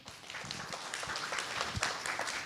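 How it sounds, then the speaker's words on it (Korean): A crowd at a citizens' public debate on the May 18 (5·18) uprising claps for a discussion group as it comes up. The applause is dense and sustained, moderately loud and close, and builds slightly toward the end. "우리 10조에게도 박수 함께 보내주세요."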